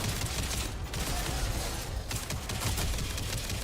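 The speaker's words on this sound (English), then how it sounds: "I can shoot to revive." Video game gunfire rattles in a continuous, dense volley as a downed player is shot to revive them, loud and close, with a couple of brief dips in the barrage.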